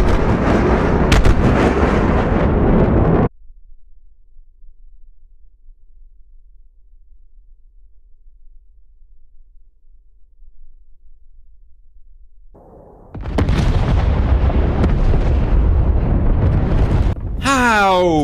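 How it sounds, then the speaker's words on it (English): B-1B Lancer bombs fall and explode in a video game, making a dense, loud roar of blasts. A long near-silent gap follows, then another sustained barrage of heavy explosions. "Oh, getting them out right now. Oh, look, the bombs are dropping."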